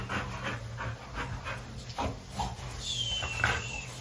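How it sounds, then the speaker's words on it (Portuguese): Several dogs pant in rapid, steady rhythm close by, a soft breathy pulsing over a low hum, with a faint whimper-like whine near the end and no speech. "E esse monte de cachorro?"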